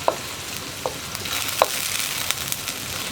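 Sauce mix for gobi manchurian sizzles and fries in a pan, with a steady hiss under a few sharp spoon taps and scrapes as it is stirred.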